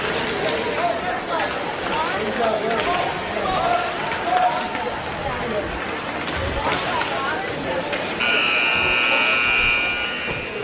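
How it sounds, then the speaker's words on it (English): A warm-up buzzer sounds at a girls' basketball home tournament, a steady electronic tone starting near the end and holding for a couple of seconds over loud gym crowd chatter and sneaker noise. "there's the warm-up buzzer now"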